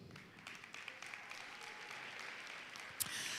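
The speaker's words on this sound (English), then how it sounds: "I want everyone in the audience to get used to clapping" Scattered clapping rises into steady applause from an audience at a high school graduation ceremony, heard from a distance and fairly faint, with a louder burst near the end.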